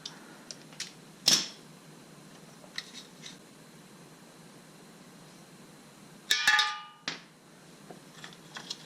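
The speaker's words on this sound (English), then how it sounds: "13mm on this nut that holds this bracket." A wrench working a 13mm bracket nut on a VW Jetta, a few sharp metallic clicks and clanks spaced apart over quiet background.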